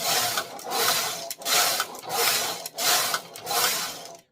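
A Knitmaster 700 knitting machine carriage is pushed back and forth knitting plain rows, giving a loud rhythmic series of rasping, clattering sweeps, about five passes separated by brief pauses, with no talk.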